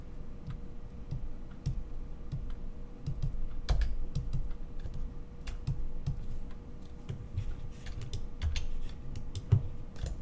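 Typing on a computer keyboard, with soft irregular key clicks and occasional louder taps over a low background hum, close by and without speech.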